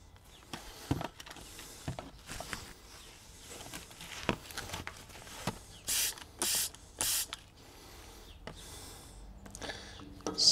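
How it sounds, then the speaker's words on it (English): Spray bottle squirting leak-test solution onto a suspension fitting under an L322 Range Rover 4.4 TDV8, several short hissing bursts in quick succession amid faint clicks and shuffling, no talk. "Let's go back under with our spray bottle."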